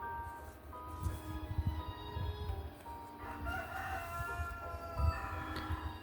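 A rooster crows from nearby, its call rising over soft clucking and faint background noise.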